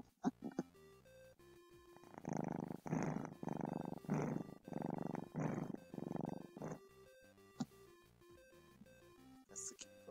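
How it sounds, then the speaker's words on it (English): A house cat purring while sitting on a lap, steady rhythmic rumbling pulses repeating for several seconds, close to the microphone, with faint electronic game music playing in the background. "Let me see if you can hear the cat."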